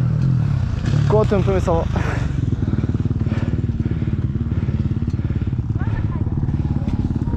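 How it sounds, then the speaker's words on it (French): A motorcycle engine runs steadily and close throughout during a ride, its low rumble continuous beneath a voice speaking French. "J'ai pris la moto."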